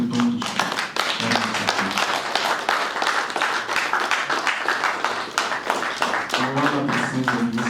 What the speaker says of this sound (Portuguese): queremos nós pedirmos mais uma salva de palmas por todos